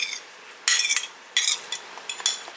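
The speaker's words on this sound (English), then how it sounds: "You just want to stir that in" Chopped onion and jarred jalapenos are stirred in a pan, with three bursts of close, bright scraping and clinking from the utensil against the metal, separated by short pauses.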